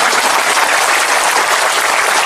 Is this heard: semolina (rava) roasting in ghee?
no